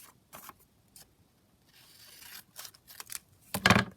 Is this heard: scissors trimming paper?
yes